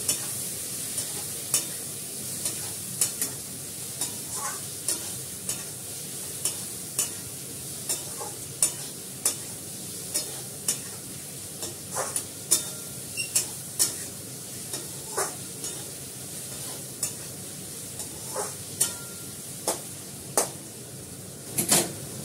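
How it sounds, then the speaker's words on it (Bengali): Mashed onions sizzle steadily in a pan with turmeric, while a spoon stirs them in repeated, fairly regular scraping knocks that sit close and clear over the constant frying hiss. "পেঁয়াজটা বেশিক্ষণ লাগবে না, ভাজা ভাজা হয়ে যাচ্ছে"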